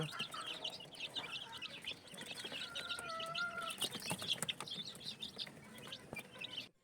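Days-old chicks in a brooder cheep and peep busily around their feeders, a cluster of high chirps, some with short flapping, near and fairly faint.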